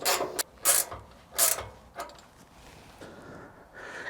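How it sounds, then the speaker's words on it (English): Hand-held 13 mm ratchet tightening a bolt on a wood chipper feed hopper during assembly, giving a few sharp clicking bursts up close, then quieter scattered ticks. "And 13 mil ratchet."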